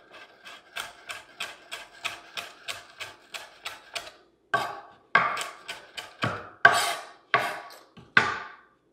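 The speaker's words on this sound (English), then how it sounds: "this chopping up is all for show because this is all going in the blender" A knife chops herbs on a board for a herb-crusted lamb, first in a quick, even run of light taps, then in slower, heavier, more spaced strikes, close and clear.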